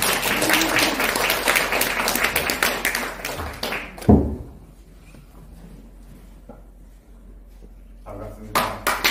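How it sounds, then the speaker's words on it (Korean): Crowd applause at a political forum event welcoming a guest speaker, dense clapping for about four seconds, then a quieter room with a brief burst of clapping near the end. "큰 박수로 맞이해 주시길 바랍니다."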